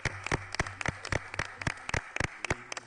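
Applause at a county commissioners' meeting: a handful of sharp, distinct claps in an uneven rhythm, close and fairly quiet in a hushed room.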